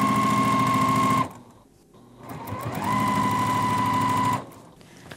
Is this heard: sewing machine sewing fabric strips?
yes